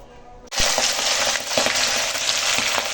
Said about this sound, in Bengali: এখন মুড়োগুলো ভেজে নেব